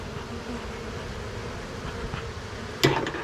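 Bees buzz steadily around a crack as they are smoked out, a continuous close insect drone with a sharp knock near the end, no voices.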